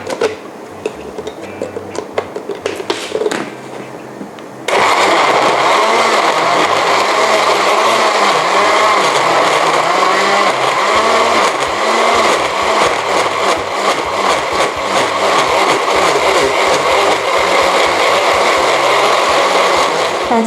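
A blender whirs steadily at high speed, pureeing fish curry with fresh coconut milk for snakehead fish curry sauce, loud and continuous after a few seconds of quieter kitchen clatter.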